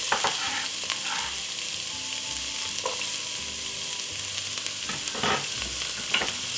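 White onion and garlic sauté in a pan for a Jamaican-style curry goat, giving a steady close sizzle with frequent scraping stirs and brief clatters, with no talk.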